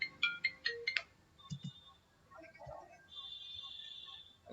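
A mobile phone ringtone sounds during a math lesson on the bisection method: a quick series of bright tonal beeps, then a longer sustained ringing tone later, with a voice partly overlapping.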